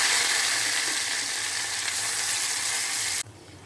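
Curry leaves sizzle loudly in hot coconut oil with crushed garlic and shallots, a bright, steady frying hiss that cuts off abruptly near the end, with no talking.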